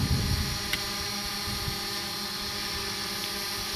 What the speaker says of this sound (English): So as you can see, the drone is hovering